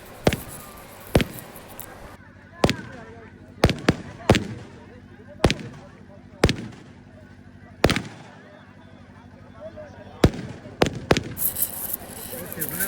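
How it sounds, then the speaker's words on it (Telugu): Large firecracker bombs explode one after another at a village goddess festival, a dozen loud sharp blasts at irregular intervals, with crowd voices and talk between them. "అక్కడ చాలా పెద్ద పేలుడు సౌండ్ వినిపించింది"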